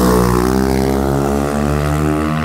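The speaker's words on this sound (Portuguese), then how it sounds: "agora a moto acordou" Honda Start 160 motorcycle engine with modified valves holding a loud, steady high rev, dense and buzzy with a strong harmonic drone throughout, close by with no talk.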